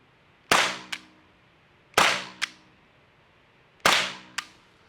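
Three sharp, loud reports from an Umarex T4E training gun fired at a target at about 7 yards, evenly spaced, each followed by a quick fainter crack of impact, no voices.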